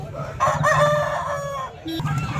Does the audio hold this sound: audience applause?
no